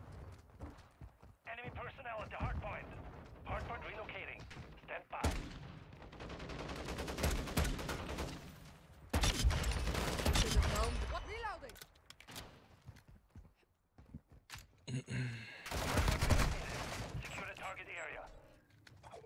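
Sharp, punchy shots from a .50 GS (Desert Eagle) pistol in Call of Duty: Modern Warfare II, firing in scattered clusters amid other loud in-game combat noise, with voices mixed in.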